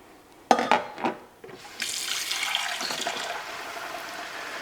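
Very wet sourdough dough being stretched and folded by wet hands, giving a few sharp squelching slaps at first and then a sustained sticky, watery squishing that stays close and fairly quiet.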